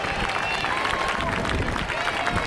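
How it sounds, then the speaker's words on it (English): Loud, dense applause and cheering from a large outdoor crowd at the International Ayr Show, a continuous wash of clapping with a voice speaking over it. "Let's give the synchro pair and Red 8 a massive round of applause"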